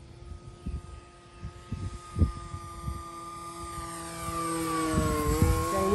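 An H-King 1016mm electric sports-scale P-51 Mustang RC model plane flies overhead with a steady whining motor and propeller tone that shifts in pitch as it passes, over faint wind buffeting.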